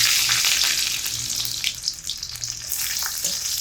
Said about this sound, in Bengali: গরম তেলের মধ্যে প্রথমে দিয়ে দিচ্ছি ছাড়ানো গোটা রসুন